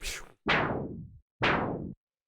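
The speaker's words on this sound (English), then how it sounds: "I've got the low pass filter just opening like this" Two separate bursts of white noise sweep downward as a low pass filter closes, each hissy swoosh starting bright and darkening over about half a second, after a softer opening sweep, with short silences between.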